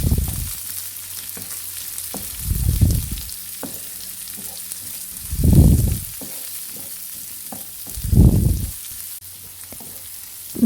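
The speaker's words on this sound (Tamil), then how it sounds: "இதை சேர்த்துட்டு நல்லா சாத்தே பண்ணிக்குவோம்." Garlic, green chilli and sliced onion sauté in hot oil for roadside-style chicken fried rice, a steady close sizzle broken by four louder bursts of stirring and scraping in the pan, with no talking.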